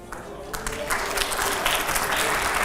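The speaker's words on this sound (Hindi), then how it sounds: "जोरदार तालियां हो जाएं" Audience applause at a televised Hindi debate with religious leaders and editors, a steady dense clapping that starts abruptly and holds loud for a few seconds.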